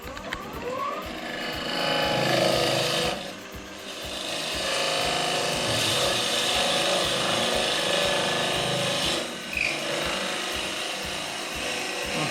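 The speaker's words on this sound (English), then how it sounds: "Take that 10mm gouge and put the raised foot on for the chuck to hold it." A 10mm gouge cutting a wooden bowl spinning on a lathe gives a continuous rough, rasping shave that swells and fades with each pass. Brief pauses fall between cuts, and nobody speaks.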